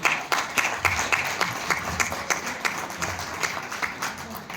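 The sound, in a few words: audience applause for Rio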